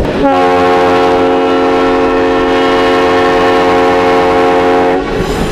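A loud, steady train horn sounds in a single long blast of nearly five seconds, then cuts off.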